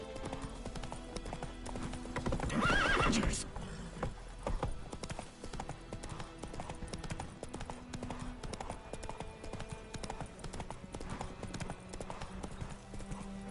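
Roach the horse gallops in The Witcher 3 video game with a steady, rapid clip-clop of hooves throughout, close and prominent, with a brief louder burst early on and no talk.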